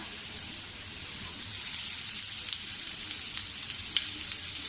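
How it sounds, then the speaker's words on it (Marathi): Onion frying in a pan with ginger and garlic over medium gas, a steady close hiss of sizzling that swells slightly midway, with a few faint crackles and no talking. "आता आपण कांदा घालूया"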